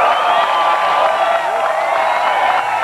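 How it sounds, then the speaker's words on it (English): A huge outdoor crowd roars and cheers as a slab of the East German wall cracks open, a dense sustained wall of voices and whoops holding steady and loud throughout. "it brought a tremendous cheer, like you've never heard at any sporting event"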